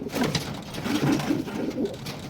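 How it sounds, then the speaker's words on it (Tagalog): Pigeons coo softly nearby, low throaty rolling calls overlapping in a loose cluster from a flock of about twenty-five birds, with faint background noise and no talking. "25 birds mga kalapatids"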